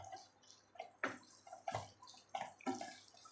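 Water splashes and pours into a pan of sautéed vegetables for rava kichdi in several short bursts, each a quick gush with a dripping, sloshing finish, close by with quiet pauses between.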